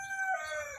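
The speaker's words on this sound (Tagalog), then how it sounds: "istorbo yung manok guys ha." A rooster crows once nearby, a short, clear call that trails off over a quiet background.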